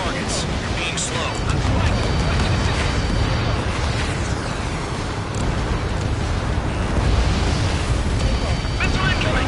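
A missile explodes during a vehicle combat video game, producing a dense, continuous, loud roaring rumble with wind-like noise that swells and holds for the whole stretch.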